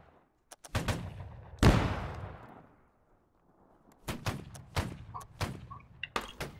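Line infantry musket fire in the Holdfast: Nations At War video game: a few sharp close shots and a heavy booming volley, then scattered overlapping musket reports near and far.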